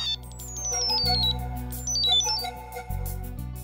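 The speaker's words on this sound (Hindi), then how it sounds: "मिताली भाभी को फोन लगाता हूँ।" A melodic electronic phone ringtone plays, a bright descending tune repeating twice over a sustained synth backing.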